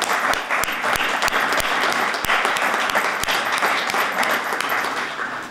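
An audience applauds to welcome a foundation board representative seated in the front row, a steady wash of many hands clapping with a few sharp individual claps standing out, sustained for several seconds.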